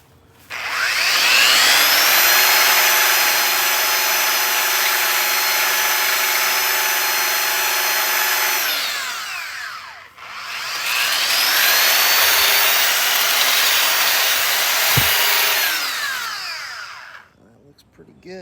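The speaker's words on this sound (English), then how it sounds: "My belt sander." A belt sander rounds off a piece of wood in two long, loud, close passes. Each pass is a steady high whine with a rough grinding edge, and a short pause splits them before the motor winds down.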